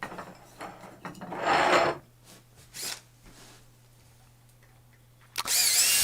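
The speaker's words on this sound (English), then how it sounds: "I'm going to drive all 4 screws into place." A power drill drives screws to mount a woodworking vise to a bench top, giving several short whirring bursts separated by quiet gaps, with a sharp final burst near the end.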